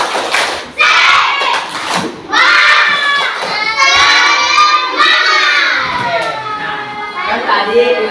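A group of children in a grade 6 classroom chant and shout together in the tepuk semangat routine, loud and close, with rhythmic clapping and thumps running through the bursts of voices.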